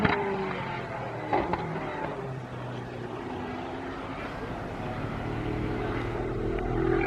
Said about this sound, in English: For a V8 it sounds like it's running on about 6 cylinders